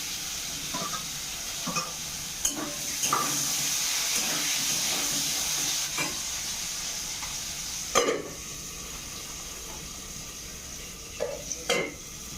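Potatoes sizzling as they fry in a pan with black cumin: a continuous hissing sizzle under repeated stirring scrapes and clinks of a utensil against the pan, with a sharper clatter midway.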